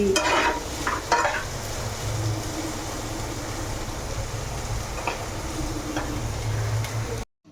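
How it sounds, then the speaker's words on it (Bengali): Potatoes frying with onion in a pan sizzle continuously up close, with scraping stirs and a few sharper clinks over the hiss, then stop suddenly. "পেঁয়াজ দিয়ে এবার একটু আলু ভাজা করছি"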